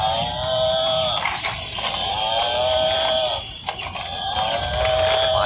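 A battery-powered pink toy buffalo gives repeated electronic moos, each a long drawn-out tone with falling pitch, loud and close, separated by brief mechanical clicks.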